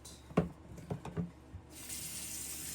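Water running from a bathroom tap into the sink during a morning skincare routine, a steady hiss of flow that starts after a few knocks and handling sounds and continues to the end.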